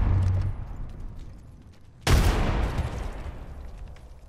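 A frag grenade explodes in the video game Apex Legends with one sudden loud boom midway, followed by a rumbling decay, after a stretch of quieter background noise and faint distant gunfire.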